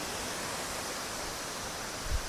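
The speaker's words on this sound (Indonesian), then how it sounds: "Nah ini kita sampai di sungai teman-teman," A river in riparian woodland on a hike up Mount Lorokan flowing as a continuous, even broadband rush heard close by, with a faint low thump near the end and no voices.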